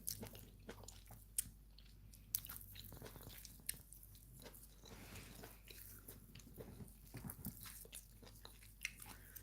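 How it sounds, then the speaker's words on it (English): Crunchy mushroom in a vegetable soup being chewed close to the mic, with irregular soft crunches and bites repeating against a faint background hum. "The mushroom is crunchy and delicious."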